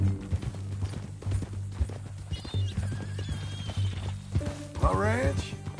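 Horse hooves clip-clop steadily in Red Dead Redemption 2, mixed with game music and under spoken dialogue, then a horse gives a loud neigh near the end.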